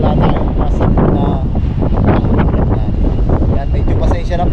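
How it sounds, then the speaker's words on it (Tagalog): Strong wind buffets the microphone at a seaside spot at low tide, a steady loud roar with gusty rumble filling the whole stretch, while water and rustling sounds mix in. "medyo pasensya na po at medyo mahangin"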